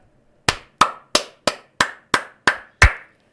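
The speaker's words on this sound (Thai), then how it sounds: "ก็ขอปรบมือให้กับ ทาโกปี้ครับ" Eight sharp hand claps in a slow, steady rhythm, close and distinct, each ringing briefly in a quiet room.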